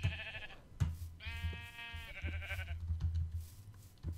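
Repeated sheep bleats from Minecraft, several wavering calls in quick succession, loud and close, with a steady low game hum beneath and no talking.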